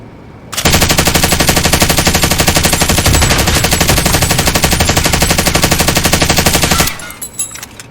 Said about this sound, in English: so let's take a look at the recoil pattern for the Stoner